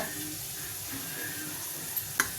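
Oil hitting a hot tawa sizzles in a steady, fairly quiet hiss while raw plantain slices wait for frying, with a couple of faint clicks near the end.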